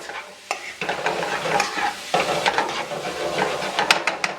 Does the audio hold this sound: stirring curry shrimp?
yes